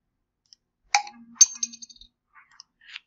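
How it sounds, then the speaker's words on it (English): Dice clatter onto a hard surface in a quick burst of bright clicks and rattles, a few separate knocks trailing off, close and alone without talk. "Paste our list. Roll our dice."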